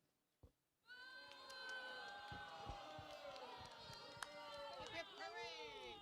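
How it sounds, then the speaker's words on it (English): A crowd at a reenactment at ‘Iolani Palace gives a rousing cheer for Dole: after a brief quiet start, many voices rise together in a loud, sustained shout that carries for several seconds. "Dole is given 3 rousing cheers."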